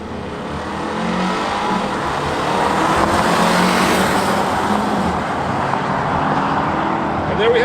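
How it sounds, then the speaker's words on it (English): A 2017 Volvo XC60 T6 in sport mode is floored from a standstill, its engine roar building loud and steady from inside the cabin as the SUV accelerates hard for several seconds. "So I'm going to put it in sport mode, and I'm just going to floor it and see how this car does."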